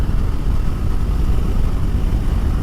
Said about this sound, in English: So the 390 Adventure is powered by KTM's 373cc single-cylinder engine.